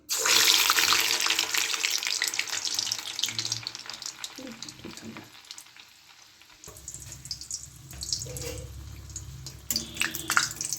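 Gurer pua pitha batter of dry rice flour and jaggery is lowered into hot oil in a wok, setting off a loud, hissing sizzle that eases midway, then picks back up with a steady crackle and a few clinks.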